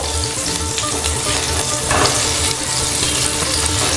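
Pieces of pointed gourd (potol) fry in hot oil coated with turmeric powder, a dense continuous crackling sizzle close up with faint stirring and turning, no voices present.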